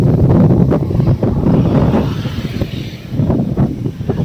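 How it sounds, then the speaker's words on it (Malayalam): Strong outdoor wind gusts and buffets the microphone in loud, uneven roaring surges, with no talk. "ആ നല്ല കാറ്റ് വീശുന്നുണ്ട്"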